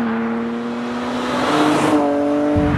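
A 1998 BMW M3 E36 with the 3.2-litre six-cylinder engine, heard as a loud, steady engine drone that climbs in pitch as it revs, close by and with no talk over it.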